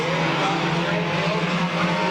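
Race cars roaring around Midvale Speedway during a six-car battle for the lead, a loud, dense, continuous engine drone with some tire noise and no voices.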